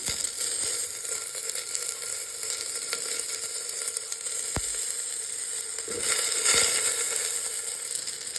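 Jackfruit seeds and dal tipped into onions fried until reddish-brown, giving a steady, close, loud sizzle throughout with brief stirring clatter and a short sharp scrape partway through; no talking.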